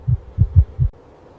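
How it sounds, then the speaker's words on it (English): Heartbeat of a penguin chick still inside its egg during an Antarctic blizzard: four soft, low thumps in two quick pairs, close and muffled, then quiet. "Inside the shell, a tiny heartbeat grows stronger beneath the storm."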